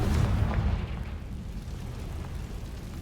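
A fiery Confringo blast spell bursts in Hogwarts Legacy, a deep booming explosion that opens loud and heavy before settling into a lingering low rumble, with no voices over it.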